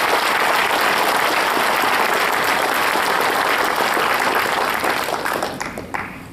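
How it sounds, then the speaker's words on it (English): An audience at the Leech Lake Band of Ojibwe State of the Band address gives loud, dense, sustained applause that holds steady for several seconds before tapering off into scattered claps. "Please join me in applauding everyone involved in making the State of the Band address a success."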